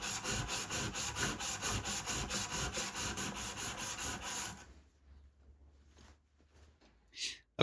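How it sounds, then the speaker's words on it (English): A rusty block plane's blade is rubbed back and forth on an abrasive in steady, rapid gritty strokes, close and continuous for several seconds, then stops, leaving faint handling noises and a short scrape. "So I'm going to give this a little flatten, give it another sharpen again, put it together"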